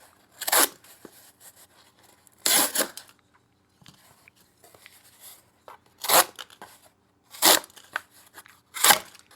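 A Kizer T1 knife slices through Amazon box cardboard in five separate crisp, tearing cuts, each short and close, with quiet pauses between.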